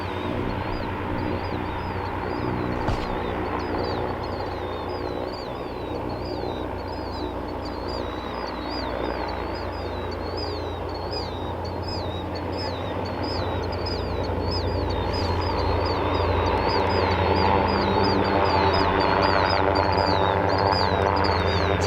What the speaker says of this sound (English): Somebody must be close to a killdeer nest.